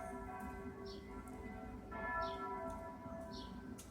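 Church bells ring out with a sustained, layered metallic hum, and a fresh strike near the middle swells the tone before it slowly decays, with faint higher chirps above it.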